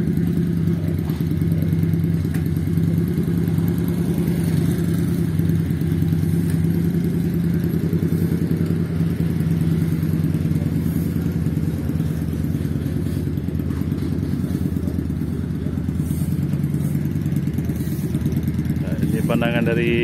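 A custom rugged V16 motorcycle stripped down to a minimal build runs steadily nearby with a constant, even mid-pitched engine drone and light mechanical clatter, unchanging for the full twenty seconds.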